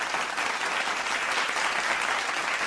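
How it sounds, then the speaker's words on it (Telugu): A studio audience applauds a singer on a singing contest show, clapping evenly and continuously at moderate volume for a short burst. "సో ఫస్ట్ ఇది ఒకసారి చప్పట్లు వేసేసుకుందాం"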